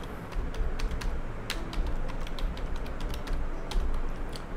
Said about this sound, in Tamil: ஒன்ஸ் நீங்கள் இந்த பர்டிகுலர் கீவேர்டை டைப் பண்ணதுக்கப்புறம்